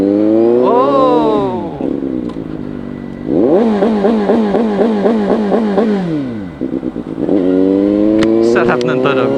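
A CFMOTO 750SRS motorcycle engine revs hard and close, climbing and falling in several long sweeps with short pauses. It ends in a stuttering burst and a fresh rise.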